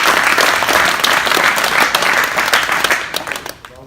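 An audience bursts into loud, dense applause at a speech about unions, clapping steadily before fading out near the end.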